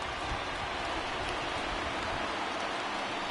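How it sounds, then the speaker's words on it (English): Rain pouring down during a baseball video game, a dense, even hiss of falling water that stays loud and constant without break and with no one talking. "we've mentioned the conditions aren't ideal with the rain coming down"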